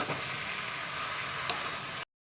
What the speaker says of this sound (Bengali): এবার একটু নেড়ে নেব